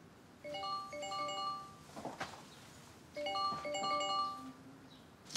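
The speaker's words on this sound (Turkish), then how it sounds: "Telefonu çalıyor." A mobile phone's melodic ringtone chimes in two short bursts of bright, repeating tones, separated by a pause with a soft knock, fairly quiet in an indoor room.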